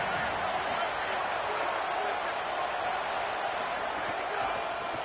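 Stadium crowd roaring steadily in a college football video game, Tennessee at Notre Dame, a dense, loud, continuous wash of cheering with no clear breaks, heard alongside broadcast commentary.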